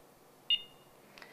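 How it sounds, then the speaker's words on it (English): A talking watch with a four-button layout gives a single short, clear electronic beep after its 2 o'clock button is held down, followed by a fainter chirp in a quiet room. "holding in the button at the 2 o'clock position for about 5 to 10 seconds until it emits a beep"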